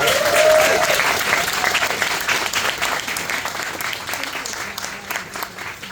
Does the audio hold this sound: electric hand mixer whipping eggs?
no